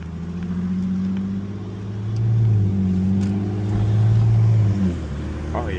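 An Infiniti G37X with a swapped VR30 engine pulls through first gear, its engine drone rising in pitch and loudness in two surges from inside the cabin.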